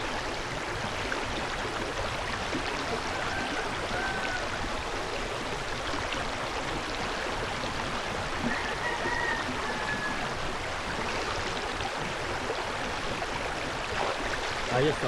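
Water runs steadily over a Samsung Galaxy A56 phone as it is rinsed under a tap, a continuous trickling, splashing stream with faint murmured talk underneath.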